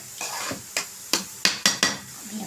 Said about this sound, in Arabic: نقلب البصل عشان ما تنحرقش